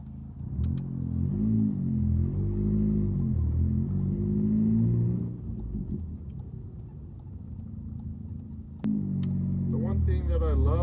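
A loud, deep engine drone heard from inside a Volkswagen MK7 GTI with its exhaust cutout open, rising and falling with revs, then dropping to a quieter rumble partway through as the cutout closes.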